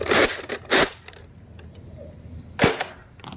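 A Nerf Rival shotgun fires on a range, with three sharp, loud snapping shots in quick succession, two close together and one after a short pause, and no talk.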